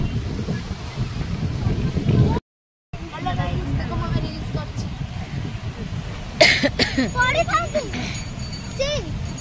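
Sea waves washing in at Puri beach, a continuous roar of surf with wind buffeting the microphone, a brief dropout, and people talking and coughing nearby over it.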